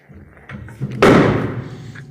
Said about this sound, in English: this vise flips up